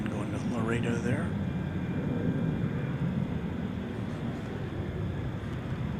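An airliner, flight 3589 bound for Laredo, takes off or passes at DFW Airport at night, a steady broad jet roar filling the whole stretch, with a voice talking briefly at the start.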